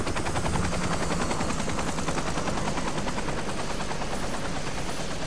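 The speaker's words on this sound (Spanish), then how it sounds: "Un helicóptero. ¡Uy! Te pasó muy cerca, ¿eh?" Helicopter flying close past in the video game Far Cry 3, a continuous loud rotor chop with steady beating, no voices.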